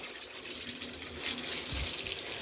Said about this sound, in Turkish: Şu gidiyor değil mi su? Aynen aşağı gidiyor.